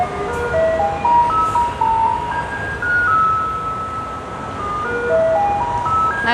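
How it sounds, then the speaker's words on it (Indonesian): A garbage truck on a Taipei street plays its melodic jingle, a clear tune of sustained notes rising and falling over steady traffic rumble, continuous throughout with no talking. "Nah, itu mobil sampah ya."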